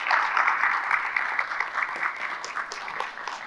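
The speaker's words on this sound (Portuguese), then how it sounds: "eu quero pedir aos vereadores que possamos aplaudi-las pelo trabalho que fazem para a nossa cidade" Council members applaud in a chamber session, a dense burst of clapping that starts loud and slowly thins out over a few seconds.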